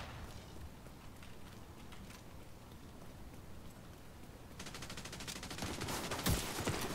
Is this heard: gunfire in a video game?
yes